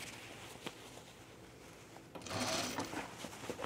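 A sewing machine stitches a shirt with a faint, quick mechanical patter, rising to a louder, steadier run in the second half, heard close but quiet.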